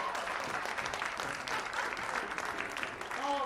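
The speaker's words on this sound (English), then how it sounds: "let's give them a round of applause" Theatre audience applauding after a performance at a fringe festival, steady dense clapping throughout, fairly close and full, with brief voices faintly underneath.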